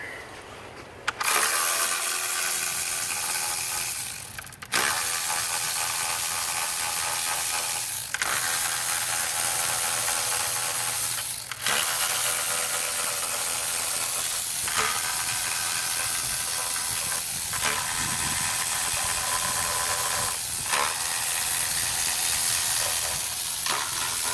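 Ratchet wrench unscrewing 10mm and 11mm bolts on a BMW 335D diesel intake manifold, a steady loud stream of close rapid pawl clicks broken by short pauses every few seconds.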